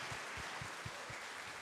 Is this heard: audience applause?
yes